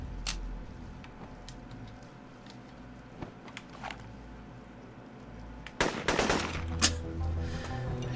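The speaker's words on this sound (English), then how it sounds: "Shot you in the back of the head with a shotgun" Gunfire in the video game Dex: sparse faint clicks and pops over a low game hum, then a loud sharp blast and a quick second burst near the end.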